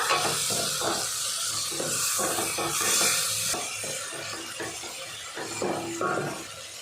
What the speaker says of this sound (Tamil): ரம்பை இலையை சேர்த்து நல்லா வதக்கிக்கலாம்.